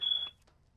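A single electronic beep from a first-person shooter video game, one short steady tone with a quick fade-out that stands alone and is fairly faint.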